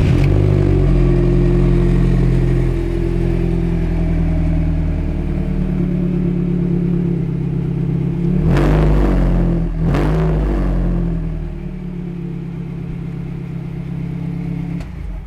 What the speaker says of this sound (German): dass der Wagen auch schon einen Sportauspuff montiert hat